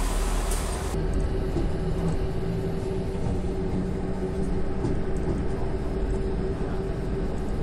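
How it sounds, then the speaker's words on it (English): Low rumbling train noise at a busy city station, Birmingham New Street, a steady close drone with a brief brighter burst at the start and no talking. "this is the train we're getting on"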